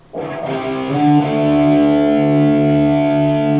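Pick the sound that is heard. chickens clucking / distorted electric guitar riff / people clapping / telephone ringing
distorted electric guitar riff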